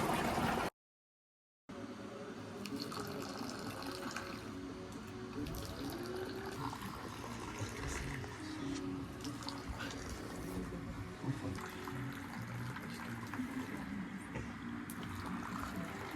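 Steady babbling of a clear stream flowing nearby in Morocco, a continuous gentle wash with light trickles, after a brief cut at the start.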